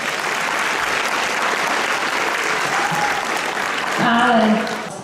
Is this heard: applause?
yes